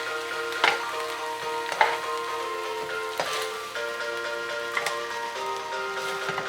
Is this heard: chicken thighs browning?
yes